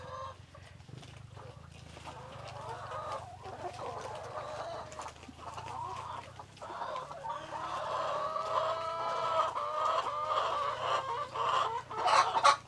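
Backyard chickens cluck and squawk steadily inside a coop bedded with rice hulls, several birds calling at once in overlapping chatter that grows busier and louder toward the end.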